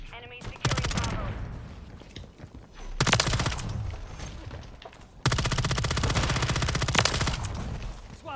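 Automatic gunfire in Call of Duty Modern Warfare 3 multiplayer, with several long, loud, rapid bursts of shots separated by short lulls and a voice talking in between.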